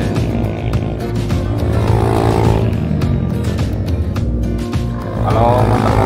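A group of trail motorcycles rides along a mountain road near Mount Bromo, engines roaring loudly and close by, swelling and fading as they pass, with a voice speaking over them.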